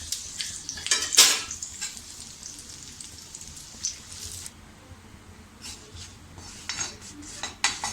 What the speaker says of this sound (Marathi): 1 चमचा आपल्याला बेसनचं पीठ या तेलामध्ये छानपैकी असं परतून घ्यायचं आहे